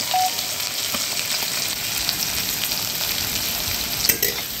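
Onions frying to golden brown in a pan give a dense, steady sizzle close up, with occasional stirring scrapes and a brief clatter near the end.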